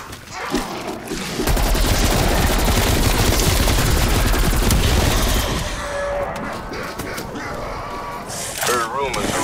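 Rapid, sustained gunfire from the Call of Duty Black Ops Cold War Zombies video game, a dense loud volley lasting several seconds before easing into scattered shots, with a voice speaking over the action.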